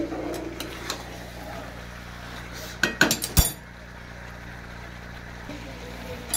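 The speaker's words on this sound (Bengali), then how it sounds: "আলুগুলো দিয়ে মাংসটাকে আবার এইভাবে একইভাবে কষে নেব" Chicken and new potatoes being stirred and fried in a pan, with a burst of metal spatula scrapes and clanks near the middle over a low background hiss, close and moderately loud.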